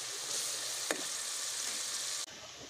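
Masala sizzling steadily in a hot kadai as it fries for a village-style masala tinda dish, a dense continuous hiss with one brief stir-like clatter partway through.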